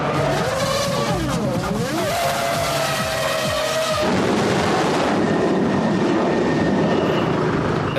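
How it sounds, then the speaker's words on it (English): Formula 1 racing cars with screaming engines pass close by on a track. One loud engine note rises and falls, then a dense, steady roar follows. "With engines running and cars screaming by on the track, it's impossible to hear"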